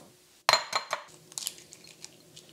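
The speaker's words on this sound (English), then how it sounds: "Just gonna crack them up and separate the yolk from the whites." Eggs cracked and separated for hollandaise sauce, heard as one sharp crack followed by several lighter clinks and taps of shell against a bowl, close and fairly quiet.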